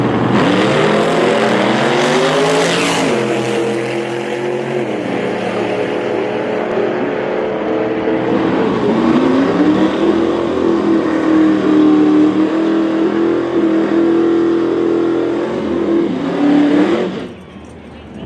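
A Fox body Ford Mustang drag racing against a Chevrolet at Tulsa Raceway Park, engine revving hard and rising through gears, loud and close with a long sustained pull before cutting off abruptly; crowd or announcer murmur sits faintly beneath.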